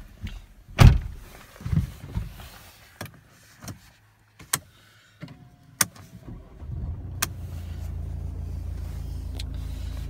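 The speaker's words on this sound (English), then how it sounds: "Let's close the door here." A Mercedes-Benz E220 CDI AMG Sport coupe door swings shut, a sharp close thump near the start followed by smaller clicks and knocks, then a low idling engine hum builds toward the end; no talking.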